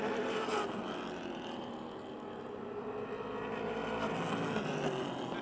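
Production street cars race around a speedway, a steady loud roar of several engines blending into one continuous drone with no talk over it.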